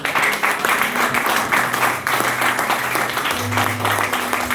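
Congregation applauding and cheering in a church service, steady dense clapping throughout with a low sustained tone from music or organ underneath.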